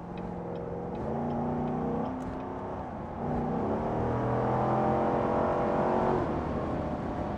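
A Chevrolet C7 Corvette V8 with an eight-speed automatic drives along. Engine tone rises through the gears, settles, and rises again in a steady, continuous drone heard from inside the car.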